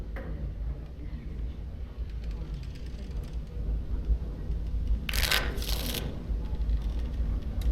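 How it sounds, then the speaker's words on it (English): Playing cards shuffle in the fantasy video game Dragon Age: Origins, two short riffling bursts heard clearly over a steady low background hum. "Before we start, the cards must be shuffled."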